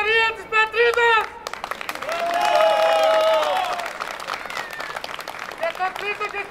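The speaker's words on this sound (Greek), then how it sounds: "η ομάδα των παρισταμένων ξέσπασε σε χειροκροτήματα" A group of attendees bursts into sustained clapping and cheering at a street rally with a car procession and slogans in Eleftherias Square, building to a dense roar mid-clip, while voices chant and shout before and after.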